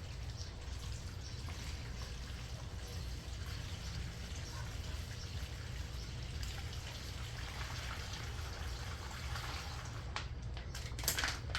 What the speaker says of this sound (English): you're going to put your water in the bag like this.